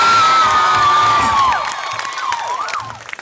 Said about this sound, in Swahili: Tafadhali nataka mpigie majamaa hapa juu makofi.